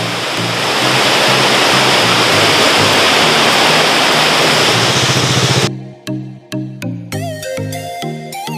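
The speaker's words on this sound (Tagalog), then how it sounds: "Napakagandang falls." A roadside waterfall along the Marihatag–Lianga highway roars as a loud, continuous wash of rushing water. Near the end it gives way to quieter ambience broken by sharp clicks and tonal chirps.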